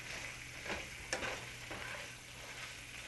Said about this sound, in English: just 1 minute of a quick saute, lots of stirring. And they turn pink almost immediately when they hit the hot oil and the hot pan surface